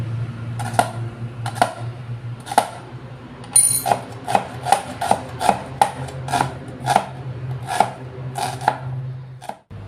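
A knife chopping onion on a board, a series of sharp, close taps, sparse at first and then quicker and more regular, over a low steady hum, with no voices.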